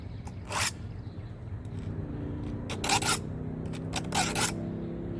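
A hand file is drawn across the chain of a Craftsman V20 10-inch battery chainsaw during sharpening, giving several short, bright rasping strokes in irregular bursts, close by over a low background hum.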